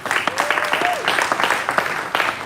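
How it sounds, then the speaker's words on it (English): Audience applause at the AMVCA eleventh edition awards event: dense, steady clapping from a crowd fills the whole stretch, fairly loud and close, with a brief whistle-like tone rising and falling over it. "A round of applause for her, please."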